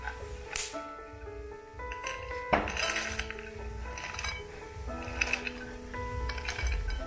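Roasted dry fruits scraped from a pan onto a plate, giving a run of light clinks and scrapes of spoon against metal and dish, close and fairly loud, with no talking.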